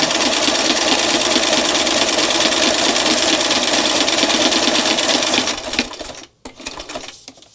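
Sewing machine stitching art journal pages made into postcards, a loud, steady rapid whir for about five seconds, then stopping with a few short clatters.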